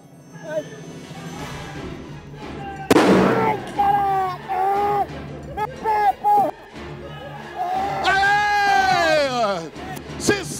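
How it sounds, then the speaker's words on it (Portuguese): A sudden loud blast set off on a Brazilian TV show bursts out, followed by music, a presenter's excited talk and a crowd's reaction. "Olha a explosão."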